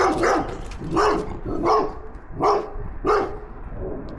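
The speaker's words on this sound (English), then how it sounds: "And a big nasty dog." A dog barks five times in a steady rhythm, each bark loud and close, with short gaps between them.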